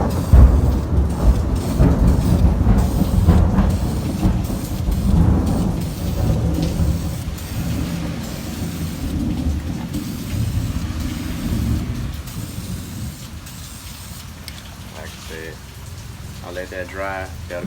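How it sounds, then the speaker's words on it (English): Heavy rain pours steadily with a deep rumbling wash, heard from inside a garage, easing slightly toward the end as a few faint voices come through. "it's raining pretty bad here."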